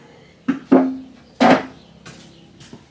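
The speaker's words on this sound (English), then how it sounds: "With my little saw." A small hand saw cuts out a centerpiece piece for a homemade window fan, giving a few separate rasping, scraping strokes with short pauses between them, close and fairly loud, with no talking.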